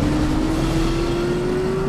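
A car in the video game The Saboteur, already smoking from damage, drives hard with a steady, slowly rising engine drone that stays loud and constant throughout, with no talking.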